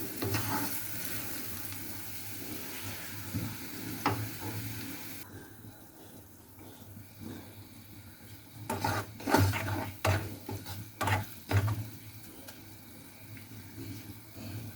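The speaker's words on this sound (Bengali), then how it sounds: "পেঁয়াজ কুচিতে আমি হালকা বাদামি রং করে ভেজে নেব।" Chopped onions fry in oil until light brown, a steady sizzling hiss that runs throughout, with stirring scrapes and a few louder clatters toward the end; no one speaks.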